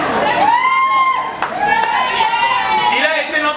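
Guests at a wedding party applaud steadily for a few seconds, a dense wash of clapping with a voice speaking and some cheering over it.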